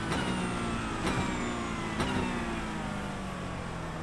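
A race car engine in the iRacing sim holds a steady, loud drone, rising in pitch through three revving pulls about a second apart, with upshift cracks between them and no voices.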